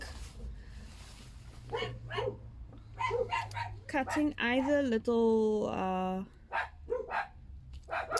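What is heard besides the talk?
dogs barking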